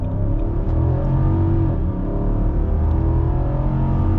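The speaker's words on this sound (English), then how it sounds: "Let's start off here in the Armada with an acceleration." A 2022 Nissan Armada Midnight Edition accelerates, its engine a steady, loud low rumble with a rising whir that holds throughout, with no talking.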